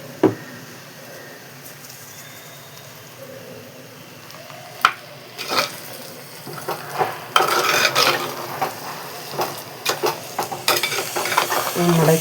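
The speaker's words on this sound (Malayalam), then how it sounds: "കുറച്ച് പച്ച വെളിച്ചെണ്ണയും കറിവേപ്പിലയും കൂടെ ഇട്ട് നന്നായിട്ടൊന്ന് യോജിപ്പിച്ചെടുക്കും." Cooked jackfruit being stirred in a pot with raw coconut oil and curry leaves, giving repeated scraping and clattering strokes of a spoon against the pan over a soft sizzle, growing busier and louder midway, with no talking.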